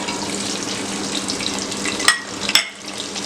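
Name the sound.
diced onions, tomatoes and cashews frying in hot oil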